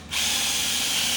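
A power drill spins up with a 5mm combined drill and tap bit boring a hole in aluminium, a loud, close, steady high whine that starts abruptly and holds throughout.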